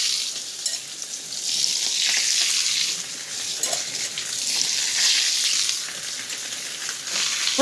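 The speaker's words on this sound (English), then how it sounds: "So when I throw in the shrimps, it's nice and hot, and it sears it right off." Shrimp sear in hot oil in a pan with a loud, steady sizzle that swells as the pieces are stirred, close up with no talk.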